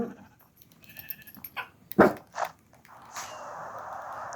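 A dog barks a few times at a distance, sharp isolated barks over quiet outdoor ambience, with a steady hiss building at the end.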